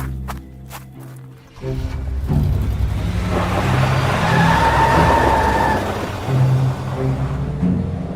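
A car pulls away fast as a sound effect: a brief clatter and door-like thumps, then a loud engine surge that holds and roars steadily before easing slightly.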